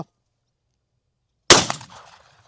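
After a stretch of silence, a shotgun loaded with a Turkish cartridge fires a single sharp, loud blast outdoors at a 35-metre range, and the report decays quickly into a short echoing tail.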